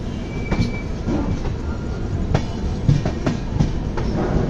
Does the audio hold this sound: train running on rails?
yes